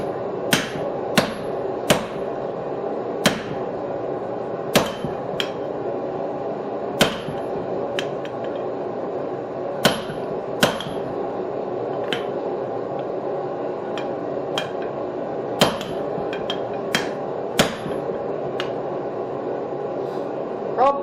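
A hammer strikes steel on an anvil while a bottom fuller is forged, giving sharp, ringing blows at an uneven pace roughly every second over a steady background hum.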